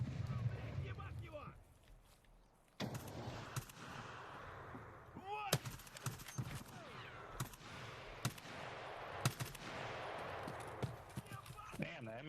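Gunfire at enemies in a military shooter game: repeated sharp rifle shots in irregular bursts, some single and some clustered, mixed with game ambience. Someone talks between the shots.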